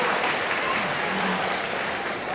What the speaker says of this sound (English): that applause was probably appreciated